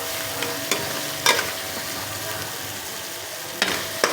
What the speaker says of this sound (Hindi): और हम इसको 2-3 मिनट और भुनाई करेंगे।